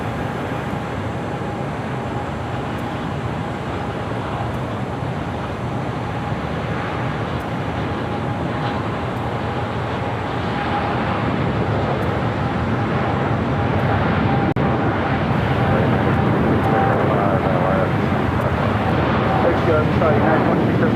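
A Boeing 747 takes off from runway 25 left at LAX, bound for Frankfurt, as a steady, broad jet roar that swells slightly louder toward the end, with a voice talking faintly over it.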